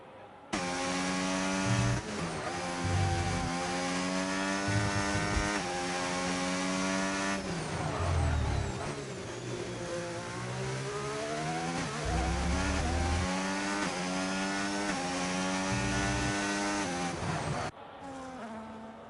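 Onboard engine of a race car in an F1 video game at Bahrain: a loud, steady high-pitched whine that rises and falls in pitch through gear changes and corners, almost unbroken for the whole stretch.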